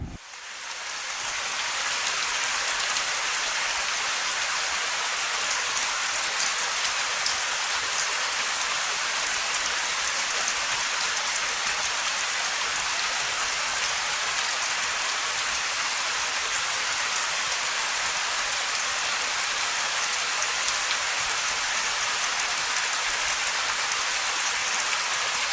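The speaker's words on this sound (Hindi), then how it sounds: "मैं बारिश दिखा रही हूँ आपको।" Steady rain pours outside on a rainy day at home, a dense, even hiss that holds at constant loudness throughout with no voices or other sounds.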